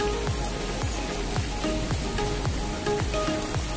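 Rain falls steadily on and around an outdoor swimming pool at a hillside villa, a dense, even hiss with scattered louder drops and small splashes throughout.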